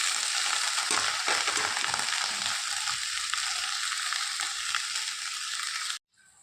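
Jackfruit seeds and greens sizzle in a hot pan, a steady, loud, close frying hiss with faint stirring scrapes that stops abruptly near the end.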